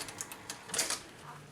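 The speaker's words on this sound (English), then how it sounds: "Then I just cheat some holes with my sewing machine" A sewing machine punches holes in leather for a Viking shield handle, giving a few quick, faint mechanical clicks and taps in an uneven short burst.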